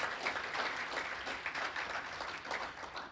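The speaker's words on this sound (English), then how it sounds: "Please give her a round of applause." Applause from a panel audience, sustained and fairly quiet, a room of people clapping steadily for about three seconds with no talk over it.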